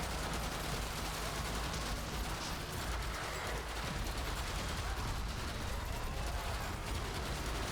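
Pistol gunfire in a zombie survivors video game pours out as a dense, unbroken barrage of rapid shots and impacts, loud and constant throughout.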